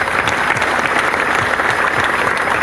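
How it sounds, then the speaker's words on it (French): A church congregation applauds, giving dense, loud, sustained clapping from many hands throughout. "Acclame pour Jésus."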